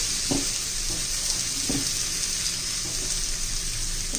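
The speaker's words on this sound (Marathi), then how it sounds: "त्याला असं तेल सोडायचं ह्या होलमध्ये जरा खरपूस आता खमंग भाजून घ्यायचे आपल्याला" Thalipeeth flatbread made with fenugreek and coriander shallow-fries in oil on a pan, giving a steady close hiss with a few soft clicks of the pan.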